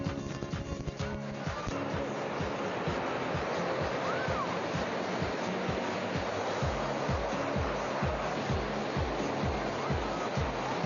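Ocean surf at the beach in General Villamil Playas, a steady broad wash of breaking waves with low rhythmic surges throughout, fairly close and continuous, with no voices.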